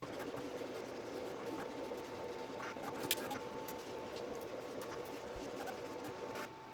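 Vinyl cutting machine slicing pink vinyl pieces for a T-shirt, a steady mechanical whir with faint repeated ticks and a brief sharp click, ending in a slight drop in level.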